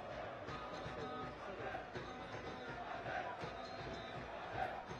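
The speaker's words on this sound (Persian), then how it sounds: "تشویق میکنن هواداری تیم داماش تیم خودشون رو." Damash Gilan football supporters fill a stadium with a sustained, distant roar of chanting and cheering, a broad crowd wash that swells slightly near the end, with a commentator talking over it.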